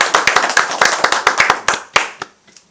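A small audience at a Buddhist doctrine lecture clapping for a devoted attendee who never missed a session, a brisk burst of sharp, close handclaps that thins out and stops after about two seconds.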